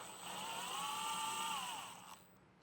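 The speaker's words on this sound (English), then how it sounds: "what I'm going to do is just remove these screws and get our bracket put in place" A power driver unscrews fasteners from a trailer connector mount in one steady whirring run, close and moderately loud, its pitch shifting slightly before it winds down.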